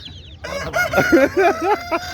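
A rooster crows once at the Çubuk chicken market in Ankara, a loud close call with rising and falling notes, following a faint chirp and background murmur.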